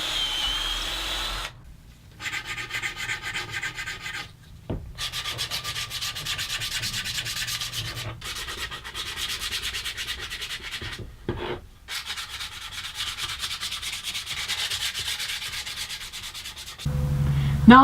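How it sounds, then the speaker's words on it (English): Steady, close power sanding of a live edge elm board for a lamp base, a continuous abrasive whir with a few brief stops and restarts, ending in a louder burst. "Now that the board's all sanded"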